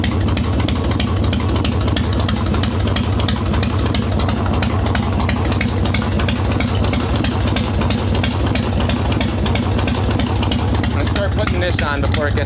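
A Harley-Davidson Evo Softail with a carburetor idles up close, a loud, steady, lumpy rumble that runs throughout with slight throttle changes.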